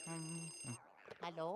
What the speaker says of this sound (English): Yet another telephone is ringing.